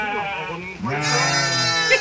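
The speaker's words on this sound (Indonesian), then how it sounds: "Ieu mah domba Garut asli mah." A Garut sheep bleats up close, a long, loud wavering cry that rises partway through and then holds, with a quieter bleat-like sound before it and no speech over it.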